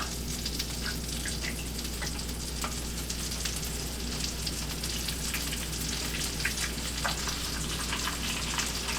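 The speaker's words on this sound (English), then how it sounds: "This flour should be hot enough for me to fry some onions in it." Onions frying in hot flour in a pan while cooking a Red Mountain burger, a steady close sizzle with scattered pops and crackles running throughout, no talk.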